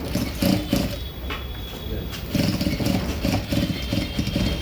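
Sewing machine running continuous press stitches along a blouse strip for a prince-cut blouse, a steady mechanical clatter with short rhythmic bursts and brief pauses, close and fairly loud.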